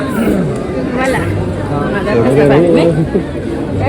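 Crowd chatter fills the air at the Mahalaxmi temple in Kolhapur, a thick babble of many voices close by, with a nearby speaker talking over it.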